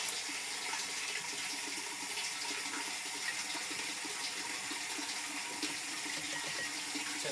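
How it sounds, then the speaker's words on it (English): Rinse water runs steadily through dairy milking equipment, a constant broadband rush and hiss with no pauses and no voices. "water rinse,"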